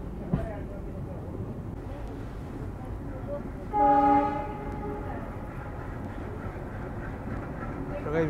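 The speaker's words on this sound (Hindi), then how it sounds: "आप लोग सुनिए अब चगिंग साउंड जो कि स्टार्ट होने जा रही है, ट्रेन का पिकअप ले रहा है लोकोमोटिव अभी ट्विन एल्को" Twin ALCO diesel locomotives pulling a passenger train on the Rewari to Fazilka route as it picks up speed, a steady rumbling chug under continuous train noise, with a short horn-like tonal blast in the middle.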